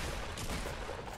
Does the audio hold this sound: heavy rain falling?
no